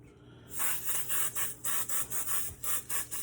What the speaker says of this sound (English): So we'll hit it with the cooking spray.